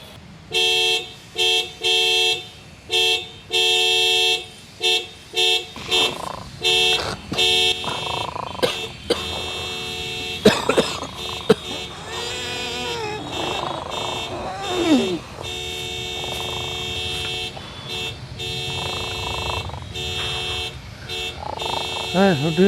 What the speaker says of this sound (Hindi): ये कौन आ गया सुबह सुबह, हॉर्न बजा रहा?